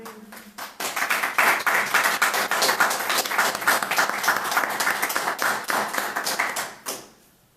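A church congregation breaks into loud, sustained applause, many hands clapping together in a dense, steady burst that lasts several seconds before tapering off abruptly.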